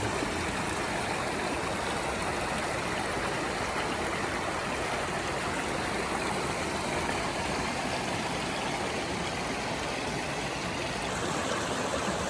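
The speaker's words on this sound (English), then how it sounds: "Nice little stream coming in. This sounds nice here, actually." A small side stream flows in where two streams merge along the Pacific Crest Trail in Washington, a steady, full broadband rush of water that stays close and constant throughout, with no voices.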